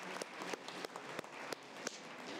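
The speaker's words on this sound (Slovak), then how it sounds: "Tak ještě jednou velký potlesk tady pro Rainfellows." Applause from an audience at a product workshop on customer experience, steady dense clapping filling the clip with a few sharper individual claps standing out, fairly close and without talk.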